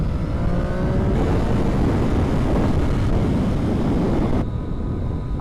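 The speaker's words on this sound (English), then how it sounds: "the stock exhaust I cannot hear at all. All I can hear is the engine airbox whistle" A Triumph Daytona 675R sport bike being ridden, its engine note and rushing wind steady and loud throughout, with a thin high airbox whistle riding over the drone and shifting as the revs change.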